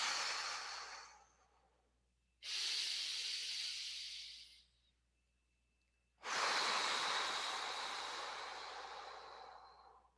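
Three deep, full breaths, each a long airy exhale or inhale a few seconds long with short pauses between, close and clear with no talking.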